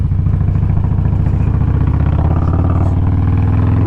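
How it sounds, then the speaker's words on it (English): Motorcycle fitted with a Two Brothers Racing aftermarket exhaust, heard while riding: a loud, steady, close engine drone with a rough, pulsing low rumble that continues through the whole stretch. "I got the Two Brothers Racing exhaust, and that bad boy has a lot of power."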